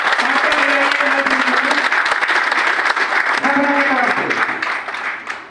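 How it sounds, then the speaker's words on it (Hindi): Strong applause from an audience at a Tata event, with sustained crowd clapping and voices calling out over it, holding steady before tapering off at the close. "जोरदार तालियां बजाएं"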